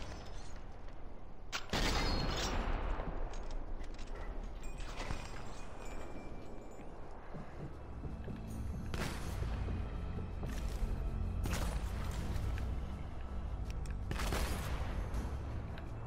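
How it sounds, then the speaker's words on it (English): Gunfire in the video game Sniper Elite 4, several sharp isolated shots spaced seconds apart over a low rumbling game background with mechanical clanks, no talking. "Gunshot heard."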